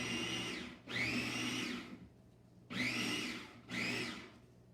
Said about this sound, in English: if we only blended the watermelon, it'll just make some ground up watermelon